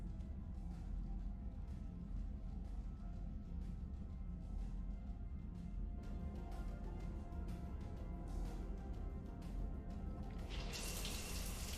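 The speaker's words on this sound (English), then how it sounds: "I figured you'd be more interested in a shower" Continuous running water from a shower in Mass Effect 3, a steady hiss and patter that swells brighter near the end, with no voices.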